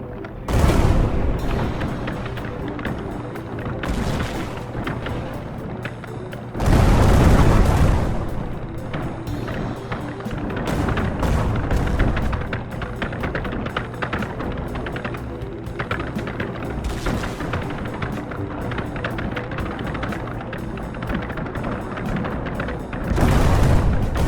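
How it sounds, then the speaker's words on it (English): Repeated booming explosions in the video game Kin and Quarry, with heavy low thuds at the start and a mid-clip burst, then a steady dense rumble of blasts throughout, loud and continuous. "let's see how we do with the increase in the number of explosions we've got going on"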